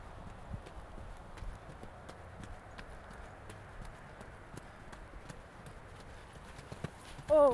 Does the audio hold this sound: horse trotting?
yes